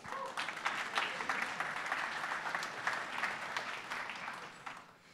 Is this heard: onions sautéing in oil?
no